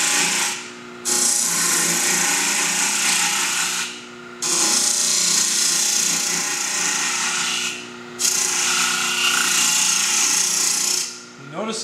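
Wood being cut away on a lathe while turning a thin lampshade, a loud continuous rasping cut in three long passes with brief pauses, the tone creeping higher as the wall thins.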